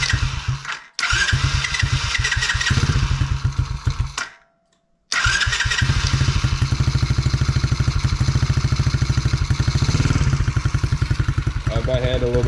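The engine of a Tao Tao DB10 dirt bike runs with a rapid, loud putter close up, cuts out briefly near the middle, then restarts and settles into a steady idle with slight throttle.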